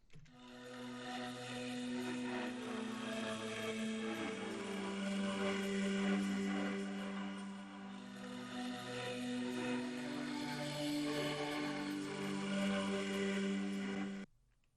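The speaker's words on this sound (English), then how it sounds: "I have this sound called Acklungs" Omnisphere synth pad patch called Acklungs: a sustained, layered harmonic chord that swells and shifts pitch every few seconds, holding steadily for about fourteen seconds before cutting off abruptly.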